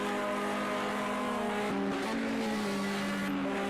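Touring race cars accelerate at high speed near 150 mph on a circuit, their engines a sustained loud, high-revving drone with a gear change partway through and a second car's note overlapping.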